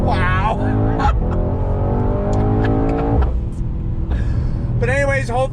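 Mercedes-AMG GT 63 S performance sedan engine revs hard on throttle, a loud rising roar with climbing gear-like harmonics, a brief shift dip, then another surge, with a voice exclaiming over it at the end.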